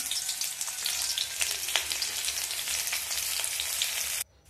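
Onions fry in a hot pan of oil, a close, steady crackling sizzle with scattered pops that runs continuously, then stops abruptly.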